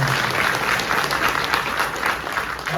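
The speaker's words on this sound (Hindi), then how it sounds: "एक बार विशेष आपके लिए जोरदार ताली बजाएं।" Loud, sustained clapping from an audience at a lecture on natural farming held in an institute hall, many hands together in a continuous dense wash with no voices over it.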